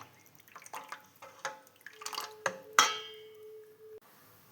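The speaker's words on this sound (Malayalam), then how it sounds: "ഇതിൽ ഇനി വെള്ളം ഒഴിക്കണം കേട്ടോ" Water is poured into a cooking pot: a few small clinks and drips, then a short, close stream that rings with a rising tone before stopping abruptly.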